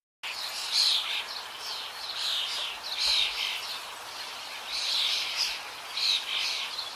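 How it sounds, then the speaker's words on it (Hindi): A flock of cartoon birds calls while flying, giving a steady stream of high, bright chirps and tweets in repeated clusters. The calls stay fairly loud throughout over a soft background hiss. "इतनी सारी चिड़ियां एक साथ।"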